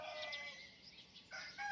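A rooster crows faintly and at a distance at a fighting-cock coop on a farm, its drawn-out call rising and wavering briefly.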